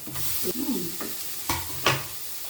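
Bay leaf, cardamom and cinnamon fry briefly in a pan, a soft sizzle broken by a few quick stirring scrapes.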